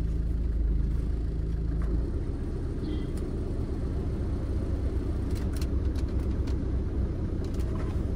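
A tempo van rumbles past on a narrow street, its low engine drone steady and close, with faint high clicks and street noise above; no voices.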